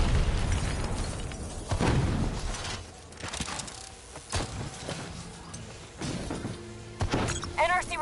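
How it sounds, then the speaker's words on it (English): Rogue robots detonating in Call of Duty Black Ops 3, a series of heavy booms and bursts with crackling debris between them, mixed with game voices and effects. "They're about to detonate!"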